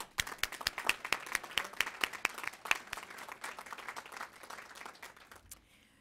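An audience at a Lions Club candidates night claps in a dense, steady round of applause that carries on for several seconds before thinning and fading out near the end.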